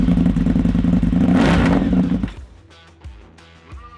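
An Indian FTR 1200 motorcycle engine runs roughly and loudly at close range on a cold start, then shuts off abruptly, leaving faint clicks and ticks.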